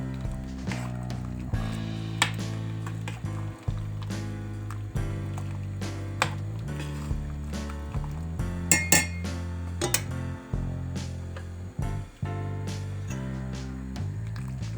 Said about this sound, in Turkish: Makarna ilave ettiğimizde önce bir karıştırıyorum. Yapışmasın birbirine diye.